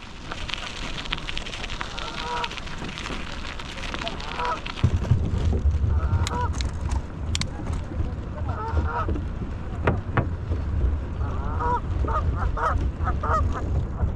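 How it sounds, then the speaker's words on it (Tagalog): Geese honk in scattered bursts over steady rumbling wind or engine noise, fairly close, with a voice heard briefly in the background. "Goose pala, goose."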